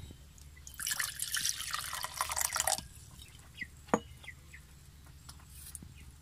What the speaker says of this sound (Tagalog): Tapos maglagay ulit ng mainit na tubig dito.